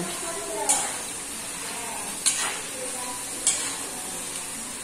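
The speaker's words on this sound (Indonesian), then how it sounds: "Goreng petat yo." Potatoes frying in a pan on a home stove give a steady, fairly loud sizzle, broken by three brief scraping clanks as they are stirred.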